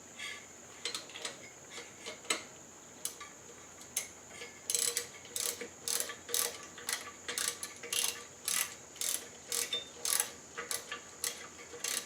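A socket ratchet clicks in quick bursts while snugging bolts on a 1974 Suzuki TC 125 during a rebuild, close and crisp, with short pauses between rapid ratcheting runs and no talking.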